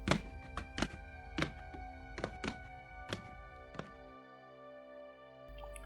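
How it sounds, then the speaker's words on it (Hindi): A series of dull thuds lands at an uneven walking pace, fairly close, over a steady tonal drone, then stops. "मैंने उनके कदमों की आवाज़ सुनी।"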